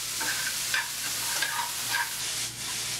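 Clams casino mixture cooking in a pan gets tossed and stirred, with a steady sizzle and bursts of scraping movement across the few seconds. The frying noise stays close and fairly loud, and nobody speaks.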